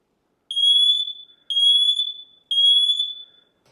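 A Sitterwell combination smoke and carbon monoxide detector sounds three loud, shrill electronic beeps in an even rhythm, each about a second long with a short gap between, close by and with no other sound.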